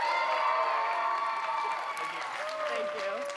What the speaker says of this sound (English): So please give Trinity a round of applause.